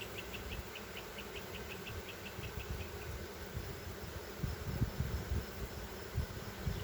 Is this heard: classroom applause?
no